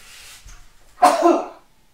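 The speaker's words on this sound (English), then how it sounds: "Hold on, I gotta sneeze." A single sharp, loud sneeze bursting out after a brief quiet pause, close to the microphone.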